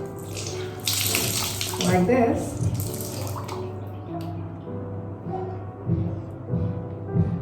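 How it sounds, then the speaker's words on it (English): A towel is dipped into warm water and squeezed out, giving steady splashing and trickling close by for several seconds, with a person speaking over it. "I'm putting it in this warm water and squeezing it"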